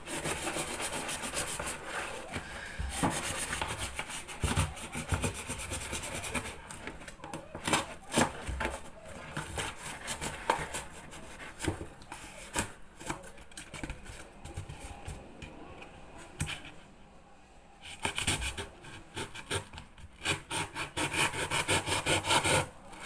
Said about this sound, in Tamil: கட் பண்ணுறதுக்கு என்கிட்ட கத்தி இருக்குது